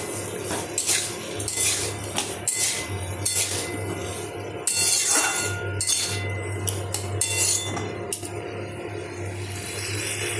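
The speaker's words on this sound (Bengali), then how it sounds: "এবার আমি আলু ফুলকপিটা দিয়ে দিলাম এবার আস্তে আস্তে এটাকে কষিয়ে নেব" Potato and cauliflower pieces stirred and fried in a pan, busy metal spatula scrapes and clinks against the pan over a low steady frying hum.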